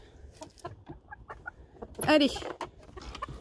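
Young hens clucking in a poultry building during integration into a flock, a run of short close clucks and calls with one louder burst midway, under a brief spoken word.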